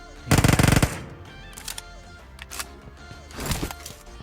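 Bursts of M4 rifle fire in the mobile game PUBG Mobile: one loud rapid automatic burst at the start, then a few shorter, fainter volleys and single shots with quieter game sounds between.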